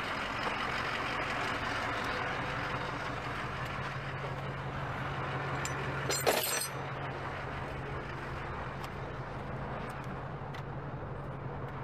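A truck engine idles steadily through its warm-up with a low constant rumble, then a brief hiss of air brakes releasing partway through before the idle carries on.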